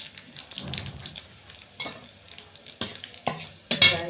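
Radhuni seeds dropped into hot oil for a banana curry, with a soft sizzle under a few close clinks and scrapes of a spoon against the pan.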